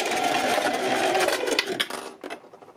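A sewing machine runs in a steady continuous burst, stitching a quarter-inch channel along a fabric edge for a ruched top, then slows and stops near the end with a few softer mechanical clicks.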